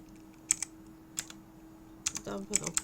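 Computer keyboard keys pressed in short bursts while entering an Excel formula, a few isolated clicks followed by a quicker cluster of taps, close and fairly quiet over a steady low hum.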